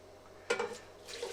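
Hot water is poured into masa for green chile chicken tamales, a short, soft, close splash and trickle that starts midway, followed by a second faint gush, with no talking.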